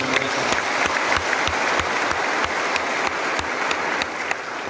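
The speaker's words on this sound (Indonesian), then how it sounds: "Karena itu kita berikan apresiasi aplaus" An audience at a teachers' association leadership inauguration claps steadily, a dense, even round of applause from a large room that holds at full strength throughout before stopping abruptly at the end, with no talking over it.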